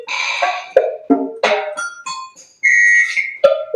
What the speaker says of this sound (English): the default MIDI sounds where each key plays a different drum sound